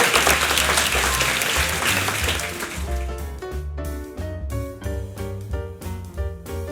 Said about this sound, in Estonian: Ja teeme suure aplausi kõigile koomikutele, kõigile osalistele, kõigile, keda me nägime.